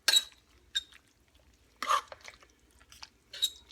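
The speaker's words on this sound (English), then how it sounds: "I'm just stirring this up, getting those tortillas down in the broth" A utensil stirs tortillas in broth in a crock pot, giving a few separate wet clinks and sloshes at irregular intervals, close and fairly quiet, with silence between them.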